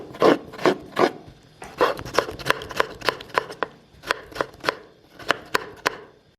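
Knife chopping tomatoes on a cutting board while cooking a mixed vegetable curry, a run of sharp, close, regular chops in quick bursts with short pauses between them.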